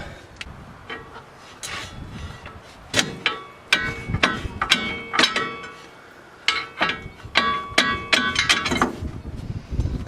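Metal knocks and clanks ring out irregularly as a crowbar pries the bottom ball joint off a Navara D40's suspension arm, sharp close strikes and scrapes scattered over ten seconds.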